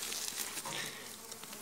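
Honey bees at a weak hive after a Demaree swarm-prevention split, feeding on comb left out to melt, make a dense, steady buzzing that stays close and continuous with no voices over it.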